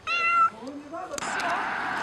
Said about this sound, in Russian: Ну хватит уже мяукать.